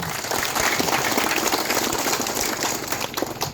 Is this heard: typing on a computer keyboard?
no